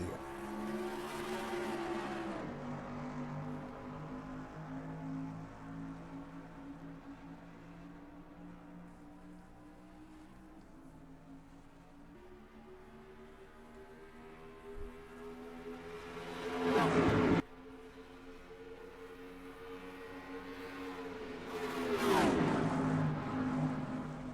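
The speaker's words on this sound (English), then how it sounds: "Clean start, 3 wide in the middle of the top 10, and Neil Zonka already on the move in the n" Simulated stock cars in the NASCAR Racing 2003 video game roar off the start at Charlotte Motor Speedway. A dense drone of engines rises and holds in pitch, and cars sweep past loudly twice later on.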